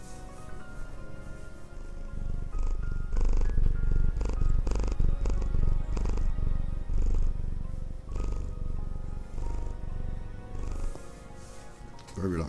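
A pet cat purrs in a steady, rumbling rhythm close to the microphone, pressed near it indoors, with a few faint scuffles and brief bursts of human talk around it.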